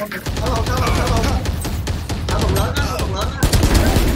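Rapid automatic gunfire in a video game, dense bursts of shots firing nearly nonstop and loud, with no talk over them.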